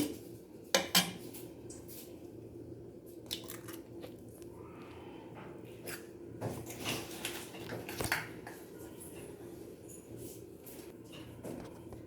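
A spoon scrapes and clinks against a bowl while chicken pakodi batter with chili powder, egg and lemon juice is mixed, giving soft, irregular wet stirring sounds at low volume.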